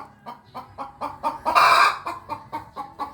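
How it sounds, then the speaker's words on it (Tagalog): A hen that has just laid an egg clucks in a quick, regular series of short notes close by, rising into one louder, drawn-out squawk midway before the steady clucking resumes. "Maarte naman itong manok namin."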